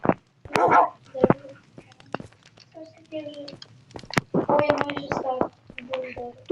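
A small dog in Minecraft barks and yips in short, irregular bursts, with lighter whimpering tones between them and some faint background voices.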